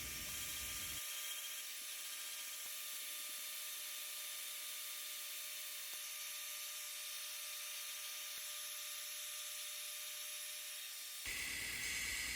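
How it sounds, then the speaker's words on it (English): A metal cutting bandsaw rough profiles a steel knife blade, giving a steady, even hissing whine with a thin high tone that runs for about ten seconds, then stops. "Over on the metal cutting bandsaw, I'm going to just start rough profiling this out"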